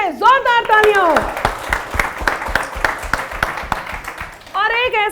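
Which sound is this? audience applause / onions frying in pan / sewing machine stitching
audience applause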